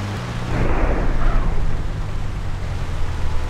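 Deep rolling thunderclap in a heavy rainstorm within the GTA MTA roleplay video game, a broad rumble swelling near the start and then sustaining loudly over steady rain noise, with no talk over it.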